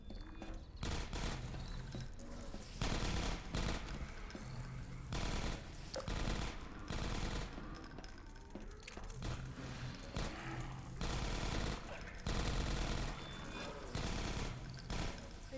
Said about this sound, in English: Careful, I hear turrets.